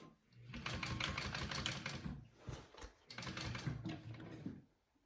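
A sewing machine stitches a bag in two long, steady runs of rapid needle strokes, loud and close, with a short pause between bursts and no talk.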